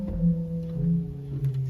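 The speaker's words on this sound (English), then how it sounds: "A 4-foot flute." A 4-foot flute stop on a huge 1922 Skinner/1950 Möller pipe organ sounds soft, sustained, breathy tones that change pitch a few times, alone and fairly quiet.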